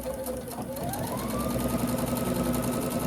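Sewing machine stitching rows of a flannel rag quilt, a steady continuous whir at close range that runs without pause under faint background speech.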